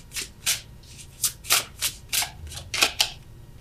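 Tarot cards are shuffled and handled close by, giving a series of soft, rhythmic papery riffles and slides, about ten brief bursts spread evenly with no talk.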